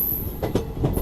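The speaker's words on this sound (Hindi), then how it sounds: "बाकी ये अपनी ट्रेन पहुंच रही है फरा रेलवे स्टेशन और यहाँ पे ट्रेन लूप हो रही है अपनी।" A train arrives and loops through Phaphamau railway station, a steady rolling rumble with faint wheel squeal and a few rhythmic clanks as the wagons pass nearby.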